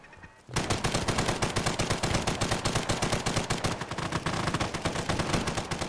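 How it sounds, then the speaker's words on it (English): Automatic turret gunfire in the video game Fallout 4, a loud, dense burst of rapid shots that starts after a brief quiet moment and hammers on continuously with steady rhythm. "More turret shooting over here."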